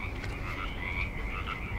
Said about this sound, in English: There's a bunch of frogs chirping away.